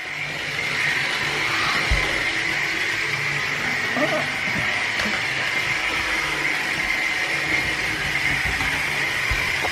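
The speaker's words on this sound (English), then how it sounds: "So that's the diesel shunter. It's a little bit noisy, I might have to oil it a little bit" An HO/OO scale Hornby diesel shunter running on a model railway, a steady whirring motor hum with faint rattles of the track, a little noisy and in need of oil, under someone talking.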